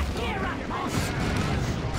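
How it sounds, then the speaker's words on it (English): A plasma cannon fires in the Dawn of War II: Retribution real-time strategy game, a heavy blast in a dense wash of constant battle gunfire and explosions, with a voice talking over the action. "Plasma Cannon shot knocks over the Terminators."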